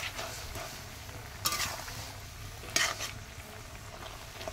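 Peas sizzle gently in a pan while being stirred and tossed, soft scraping throughout and two sharper metallic clinks of the spoon against the pan, no speech.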